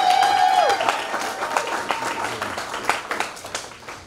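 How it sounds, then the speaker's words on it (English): Audience at a live charity comedy show at Gold Lion breaks into loud, sustained clapping and cheering, with a short whistle at the start, and the applause holds steady throughout. "Give a huge round of applause for him."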